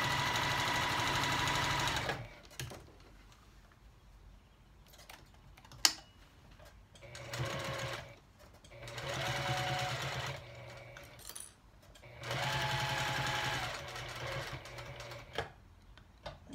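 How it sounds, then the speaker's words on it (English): A sewing machine stitches a bowl cozy through two layers of batting and two layers of fabric, running in several short quiet bursts of rapid whirring with pauses of near silence between them. "I'm going to sew right up to the previous seam."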